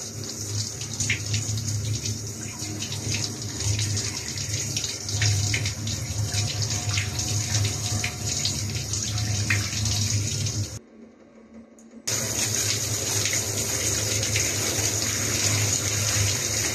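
Water rinses the disassembled parts of a Technics EH 550 amplifier during washing, a steady loud gushing spray from a tap that drops out briefly near the end before resuming.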